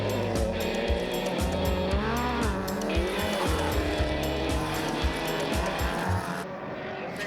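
Off-road race cars battle in a stadium at the 2023 Mickey Thompson New Zealand Stadium Offroad Championship, engines roaring loud and continuous with shifting revs and squealing, skidding tires, and no voices.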